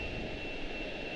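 Jet airliner taxiing toward its gate at Charlotte Douglas airport, a steady distant engine roar and hiss that holds even throughout, with no voices.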